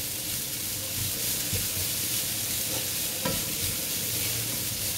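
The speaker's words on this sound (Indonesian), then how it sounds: "Okey, kita goreng dia sekejap." Curry ingredients fry in a pan for a crab masala, giving a steady, dense sizzle with faint stirring scrapes, close and continuous throughout, with no speech.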